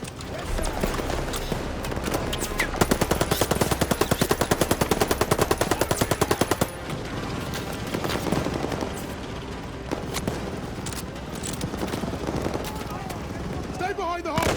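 Machine gun fire in a Normandy 1944 battle in Call of Duty Vanguard: a rapid, loud, evenly spaced automatic burst lasting several seconds, set in dense battle noise with shouted voices and scattered explosions.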